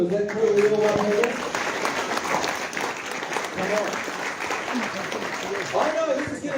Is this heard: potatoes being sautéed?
no